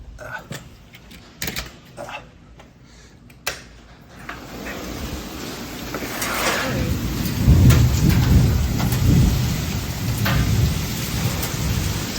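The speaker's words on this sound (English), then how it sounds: "Yeah, there's the hail." A hailstorm microburst in Phoenix, Arizona: scattered drops and thumps at first, then heavy rain and hail building into a loud, dense roar with rumbling thunder and occasional sharp impacts.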